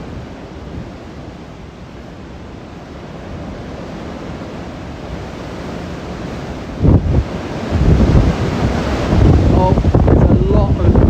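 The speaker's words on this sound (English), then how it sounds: "these are big gusts coming in now," Typhoon Podul lashing Taiwan with strong wind gusts that roar broadband and swell louder toward the end, with surf-like rushing and a brief voice.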